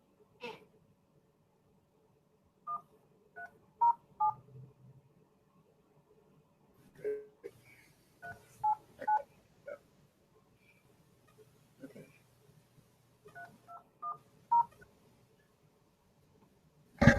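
Telephone dialing tones while phone calls are placed: short, clean beeps in quick clusters of two to four, separated by pauses, faint against an otherwise quiet background.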